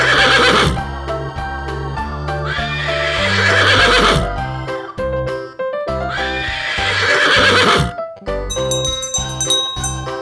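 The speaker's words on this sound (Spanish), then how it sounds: "Caballo." Horse neighs loud and close, two long whinnies with trembling, descending pitch over a busy children's music backing, with clip-clop hooves and a jingle toward the end.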